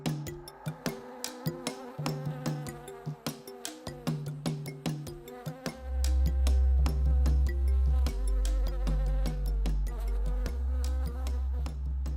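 Honeybees around a beehive give a continuous buzzing hum with shifting pitches, joined midway by a louder, deeper droning layer, close and without talk.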